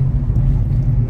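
A car on the road, seen from inside during a family trip, gives a steady, low engine rumble that is close and constant, with no voices.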